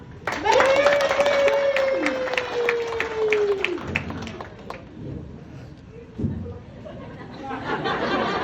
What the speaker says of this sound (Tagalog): kaya hingan natin sila ng isang malakas na palakpak